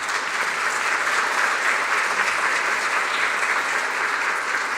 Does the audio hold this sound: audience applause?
yes